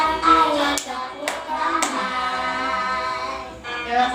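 Children in a third-grade classroom lesson clap their hands, a few sharp claps close together near the start over a steady sung voice.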